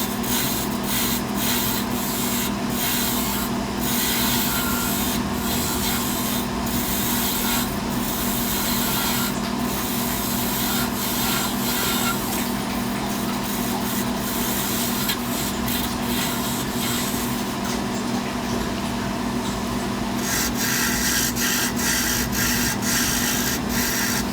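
A gouge cuts a purpleheart wood handle spinning on a lathe, producing a steady, loud, continuous scraping and rasping hiss with faint ticks throughout.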